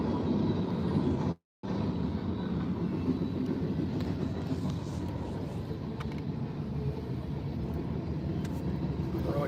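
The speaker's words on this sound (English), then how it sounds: "Roll your window down too. Get a little sound of the train." A freight train rolls past outside an open car window in Nebraska during severe thunderstorms, a continuous loud rumbling roar with a brief cut near the start and no talk.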